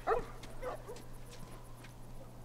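Dogs in The Last of Us barking: two or three sharp yips close together at the start, then fainter whimpers and scattered clicks over a steady low game hum.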